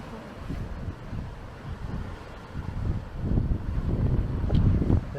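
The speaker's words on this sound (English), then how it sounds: "it's a really windy day today" Strong wind gusts rumble low and steady across a coastal path near Cala d'Or, Majorca, swelling louder toward the end with no voices.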